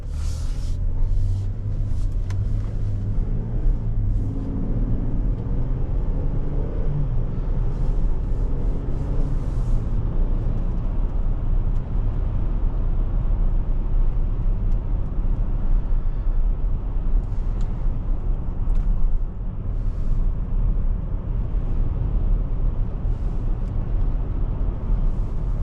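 A 2022 Chevrolet Traverse Premier SUV drives along, heard from inside the cabin as a steady low road rumble and engine drone with faint tire noise, continuous and unbroken.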